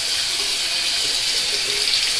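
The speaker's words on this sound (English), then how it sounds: "The razor, when I hold it under the running water" Steady running tap water pours with a hissing, splashing rush while a Gillette Heritage double edge razor is rinsed under it, continuous and close with no talk.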